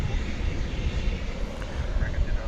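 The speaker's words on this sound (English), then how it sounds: "that flight was flight 1111 coming in from Toronto. American Airlines Airbus A319" An American Airlines Airbus A319 arrives at DFW Airport at night, heard as a steady low broadband engine rumble at moderate distance, continuous and fairly even for the whole stretch with no talk.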